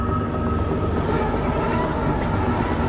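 Train sounds from the horror video game Petey's Playhouse, set on a Japanese-style train with sliding doors: a loud, continuous rumble of a moving rail carriage with a steady low hum and faint rhythmic clatter.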